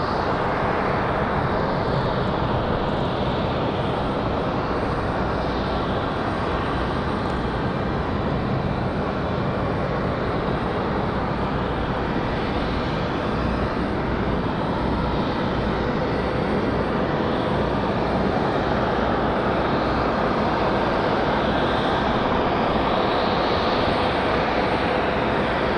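Fixed-wing jet aircraft arriving at Raleigh Durham airport, a steady, loud broadband engine roar that holds without a break throughout, with no talk over it.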